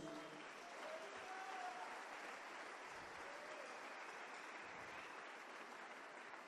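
Church congregation applauding, a dense, steady roar of clapping that holds at an even level for several seconds, heard from within the crowd.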